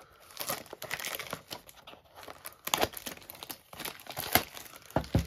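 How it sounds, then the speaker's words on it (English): Plastic wrap is torn and crinkled off a 2022 Topps Chrome trading card box in close, irregular bursts of crackling and ripping, with no talking. "Get that plastic off and pull that in"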